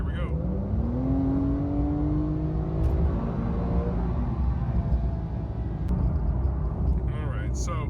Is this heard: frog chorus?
no